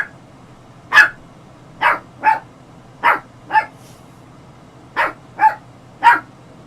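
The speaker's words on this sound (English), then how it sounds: "What are you barking at?" A dog barks in short, separated bursts, about eight barks spread unevenly with brief pauses between them, close and fairly loud in a quiet indoor room.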